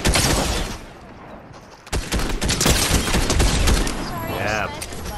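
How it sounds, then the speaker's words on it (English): Sniper rifle gunfire in a Fortnite duos match, sharp loud shots cracking over a dense game soundscape with several close blasts, while people talk throughout. "I sniped him, buddy"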